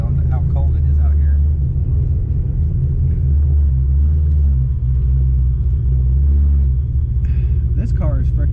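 A TorqStorm supercharged Dodge Challenger R/T roars with a heavy, continuous low rumble as it spins its tires on a cold day, loud and close throughout.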